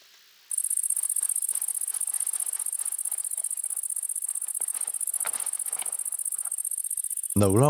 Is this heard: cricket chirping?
yes